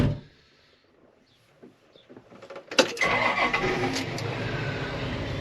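An old car engine cranks after a quiet stretch with a few faint clicks, catches with a loud burst, and settles into a steady close idle.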